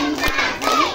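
A class of children claps hands together in a school classroom, a dense burst of clapping from many small hands, close and lively, with faint young voices mixed in.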